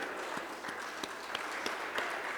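A hall audience at a Teej celebration gives a women's forum a round of applause, the clapping soft and distant, steady for a couple of seconds.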